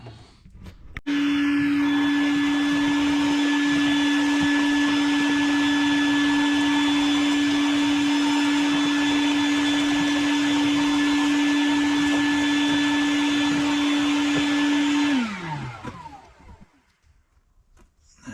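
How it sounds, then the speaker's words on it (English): A vacuum cleaner sucking brake dust out of the rear drum brake area of a Nissan Versa: a steady, loud motor whine that holds for about fourteen seconds, then winds down as it switches off, with no talking. "That whole area was just filthy, so I went ahead and vacuumed it out."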